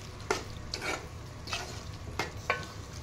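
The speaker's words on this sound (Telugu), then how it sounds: "దీనిలో మనం ఉడకబెట్టుకొని ఉంచుకున్న రొయ్యలు వేసేసి మీ టేస్ట్కి తగినట్టు కారం వేసుకొని" Boiled prawns and chili stirred into a sizzling prawn, spring onion and tomato curry in a pan, a steady frying hiss under several sharp scraping and clinking strokes of a spoon.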